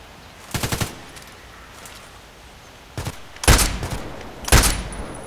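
Automatic gunfire in the Contract Wars shooter game comes as several short, sharp bursts: one rapid volley near the start, then a quieter pause and three more loud bursts close together toward the end.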